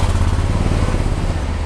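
Idling 2017 Harley-Davidson Fat Bob in stealth black, a steady low rumbling engine loud and close, with a loping pulse and no voices over it.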